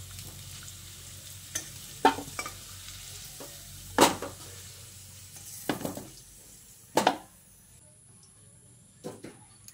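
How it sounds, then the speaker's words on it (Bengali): Potatoes frying in oil in a kadai for a soybean curry, a soft low sizzle broken by a few sharp spoon scrapes and clinks against the pan, then quieter near the end. "দেখুন আলুগুলোকে আমি লালচে করে ভেজে নিয়েছি।"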